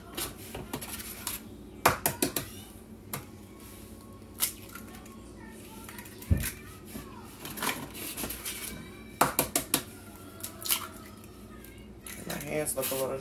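Three eggs going into red velvet cake mix in a bowl, heard as clinks, taps and cracks against the bowl and utensils, scattered irregularly alongside some kitchen clatter while a person talks.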